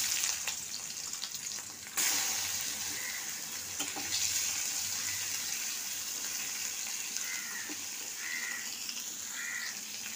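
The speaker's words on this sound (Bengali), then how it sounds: "এবার মাছটা আমি ভাজবো" Prawns fry in a pan with a steady, even sizzling hiss for the whole stretch, and faint bird-like chirps sound in the background. No one speaks.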